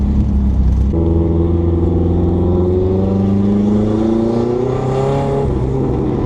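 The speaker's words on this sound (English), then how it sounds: "Heard the turbo and the blow-off valve that time." Inside a Hyundai Sonata, the turbocharged engine revs loudly and builds boost, the turbo spooling up as the pitch climbs before easing off near the end with a blow-off valve release.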